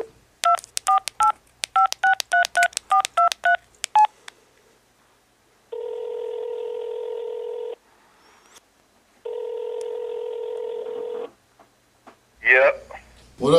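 Telephone keypad DTMF tones dial a number in quick beeping bursts, followed by two long steady ringback tones with a gap between them, then a brief voice at the very end.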